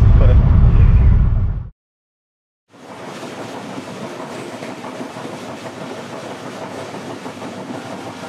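A passenger train rumbles steadily along the tracks in Pakistan, a continuous wheel-and-carriage roar heard from inside, after a brief louder burst and a short gap of silence.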